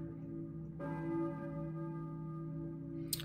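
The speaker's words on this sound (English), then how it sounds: "A church bell, maybe. Who's ringing the bell?" A single deep church bell in the video game Silent Hill strikes and rings out with a long, sustained resonant hum that slowly fades.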